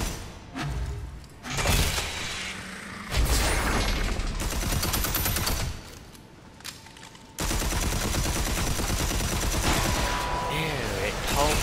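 Dense bursts of rapid gunfire with shattering impacts in the shooter game Red Faction Armageddon, loud and close, stopping and restarting in long runs, with a player's voice talking over the action.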